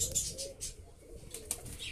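Pigeons coo softly in a loft, a low murmuring call repeated across the moment with faint chirps and a brief wing flutter, fairly distant and quiet.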